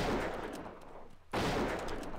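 Gunfire in the DayZ Mod video game, set in a courtyard area, with dense loud blasts filling the short span, a brief lull in the middle, then another burst of shooting. No one talks.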